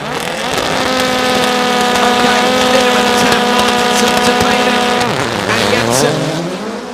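Rallycross cars launch off the start line in Riga, a loud pack of high-revving engines rising together in pitch for several seconds before dropping as they shift, with a commentator talking over the roar.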